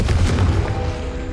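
Confringo blast spell in the Hogwarts Legacy video game: a single deep, booming explosion that hits hard at once and then rumbles away over about a second, loud and close.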